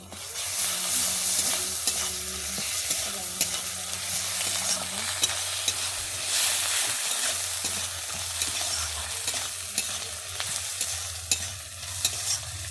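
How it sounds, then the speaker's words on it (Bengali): Garlic fries in oil in a pan: a continuous close sizzle with repeated scraping stir strokes and occasional sharp clicks of a utensil against the pan, moderately loud, with no talking. "এর মধ্যে আমি রসুন এক চামচ দিয়ে আমি ভেজে নেব"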